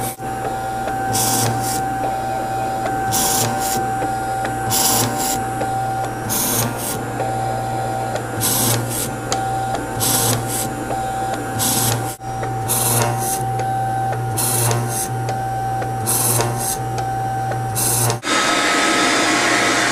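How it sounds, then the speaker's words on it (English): A CNC mill drills a rapid series of holes in a double-sided PCB. A steady motor hum runs throughout, broken by about a dozen short, sharp, high-pitched drilling bursts at close range. No one speaks. "We're going to drill a bunch of holes really fast."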